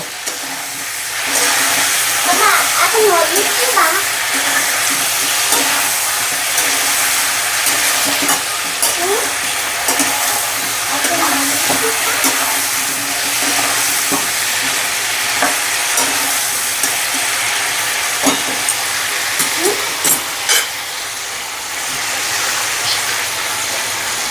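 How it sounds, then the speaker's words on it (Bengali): Whole potatoes are stirred into a frying chicken curry, which gives a loud continuous sizzle with scraping stirs and occasional clacks of the spoon against the pot. "এর মধ্যে গোটা আলুগুলো দিয়ে দেবো দিয়ে হালকা করে নাড়াচাড়া করে নেব"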